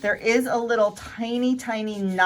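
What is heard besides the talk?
No everyday noise stands out behind the speech.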